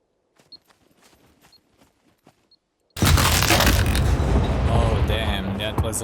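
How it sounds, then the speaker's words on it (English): A C4 charge detonates in the video game SCUM: after a few seconds of faint clicks and footsteps, a loud explosion hits and its roar rolls on to the end. "Oh damn, that was a nice explosion."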